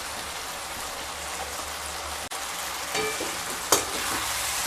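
A spatula mixes pui mitul chorchori with crushed fried lentil dumplings, fried prawns and raw mustard oil in a pan, giving a steady close sizzle and a sharp clack near the end.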